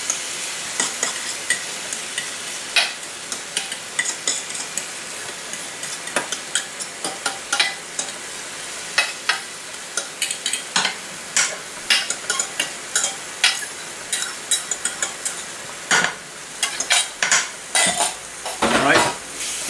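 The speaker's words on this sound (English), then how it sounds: "never stop stirring it, and just add the mashed eggplant" Mashed eggplant frying in a hot pan and stirred constantly, with a continuous sizzle under frequent scraping and clattering strokes of a utensil against the pan.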